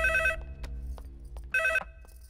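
A telephone rings in an indoor film scene, giving two short electronic ring bursts separated by a pause of just over a second, with soft room noise and faint clicks between them.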